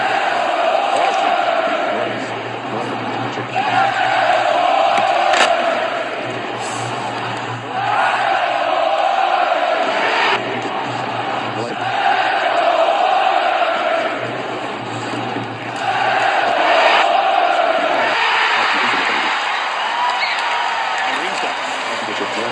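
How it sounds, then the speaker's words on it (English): A hockey arena crowd at Game 2 of the 2012 Stanley Cup Final, Flyers against Oilers, chants Let's go Oilers in swelling, repeating waves beneath a play-by-play commentator's continuous talk. "The crowd on the corner. Let's go Oilers chant."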